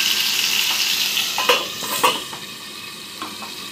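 Mutton frying under a lid in a pan gives a steady, loud hiss, broken by a few sharp clinks and pops around the middle.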